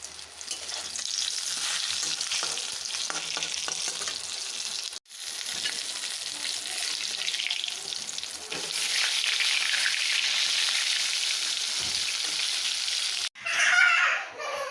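Sidol bora fritters fry in hot oil with a loud, continuous sizzle that swells and fades, broken by brief pauses and a burst of clattering near the end.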